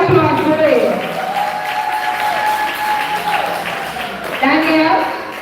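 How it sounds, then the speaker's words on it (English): Applause at a primary and infant school graduation ceremony, steady clapping from the audience heard alongside a voice speaking throughout, with a burst of louder clapping near the end. "Keep the applause going."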